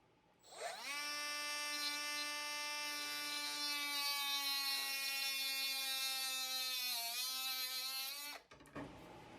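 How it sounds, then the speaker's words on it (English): A cut-off tool cutting wood gives a high, steady electric whine after a quick spin-up, holding for about eight seconds before cutting off and rattling briefly as it winds down, with no talking. "Actually, it's not a saw, it's called a cut-off tool."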